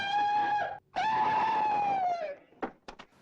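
A man's loud, sustained scream on waking from a nightmare in the 1958 film Machine Gun Kelly: a long strained cry, a brief break, then a second drawn-out scream that trails off into a few sharp gasps.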